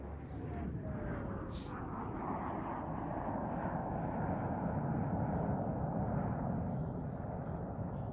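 An aircraft engine drones steadily overhead with broad, rushing noise and a slowly shifting pitch, loud and continuous throughout.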